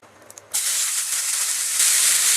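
Finely chopped onions hitting hot oil with cumin for mutton kadai, a sudden loud hiss that bursts in after a few small crackles and holds steady, swelling slightly toward the end.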